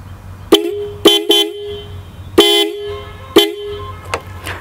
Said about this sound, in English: Let me actually sound the horn for you.